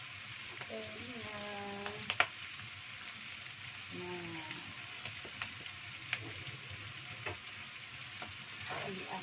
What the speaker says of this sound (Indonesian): diaduk-aduk sampai merata